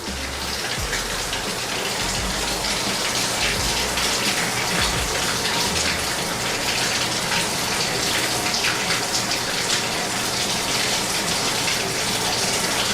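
Hot water gushes steadily from a bathtub tap during a home inspection, a loud, continuous broadband splashing rush that holds unchanged for the whole stretch, with no voices over it.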